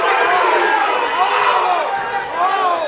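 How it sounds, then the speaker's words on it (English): A boxing crowd roars and cheers wildly for Manny at a boxing event, a dense, loud, surging wall of voices with no single speaker standing out. "Manny's crowd is just going crazy"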